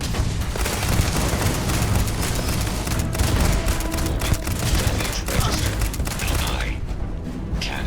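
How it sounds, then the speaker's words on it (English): Gunfire in the game Starfield, a dense, loud, continuous barrage of shots and impacts filling the whole stretch without a break. "Is Andreja, is she shooting?"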